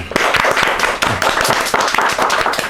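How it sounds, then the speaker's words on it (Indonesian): Dense applause and clapping from an audience, steady and close throughout, with sharp overlapping hand claps filling the short stretch. "Banyak banget tepuk tangannya kayak topeng monyet ya"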